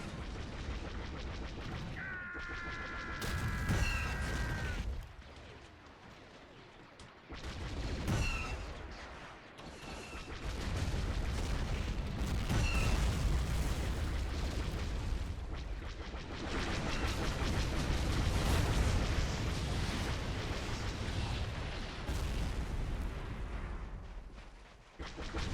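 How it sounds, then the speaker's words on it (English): Heavy gunfire and artillery rumble through a Star Wars mod battle in a video game, a clone beach defense on Kashyyyk, with dense volleys and booming blasts continuing loudly throughout, briefly easing before swelling again. "Jesus, that's a lot of firepower."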